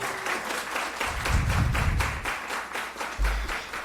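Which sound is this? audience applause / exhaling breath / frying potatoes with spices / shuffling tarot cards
audience applause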